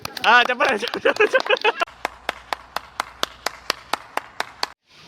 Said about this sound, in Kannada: ತಟ್ಟೆ ಚಪ್ಪಾಳೆ.